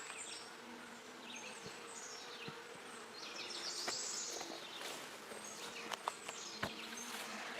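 Honey bees at a beekeeper's hive with new bees hatching make a steady, dense buzz close by, with individual bees droning past and a few light clicks and taps.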